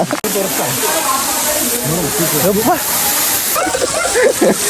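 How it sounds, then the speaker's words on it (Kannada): Water plunges at Baba Waterfalls in a steady, close, broadband rush that runs the whole time, with splashing and people talking over it. "ಮ್ಯಾಗಿಂತ್ರ ನೀರು ಬೀಳತ್ತವ."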